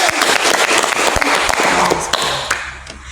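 Applause from a small group in a podcast studio, brisk overlapping claps at close range that keep up steadily and then thin out and fade over about three seconds.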